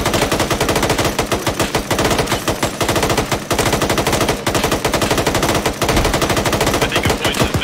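Rapid automatic gunfire in the military shooter game Arma 3 rattles loud and close in long sustained bursts, with only brief gaps between strings of shots.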